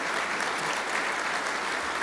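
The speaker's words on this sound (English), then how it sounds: "So just a quick round of applause for all of them" Audience at an awards dinner gives a dense, steady round of applause, many hands clapping together at even loudness throughout, with no voices standing out.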